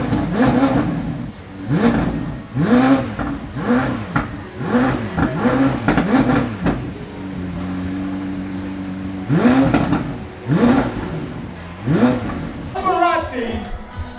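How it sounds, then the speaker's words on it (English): A six-cylinder Ford GT supercar at a Miami supercar event, its engine revved repeatedly in sharp rising and falling bursts, loud and close, with a steadier idle in between and crowd voices and talk around it. "And it's a 6-cylinder, about to rev up."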